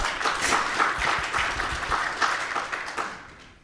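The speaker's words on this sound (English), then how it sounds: "I believe it's also deserve a round of applause" An audience at an innovation event session applauds speakers from Ukraine, a full, moderately loud round of clapping that carries for a few seconds and then fades.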